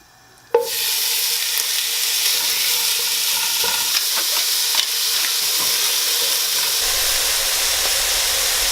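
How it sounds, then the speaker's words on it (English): Meat searing in batches in a fat-rich pan, a loud, continuous close sizzle and hiss that starts abruptly and holds steady with faint clicks, no talking. "To properly sear this meat, we're going to want to do it in batches so that we don't overcrowd the pan."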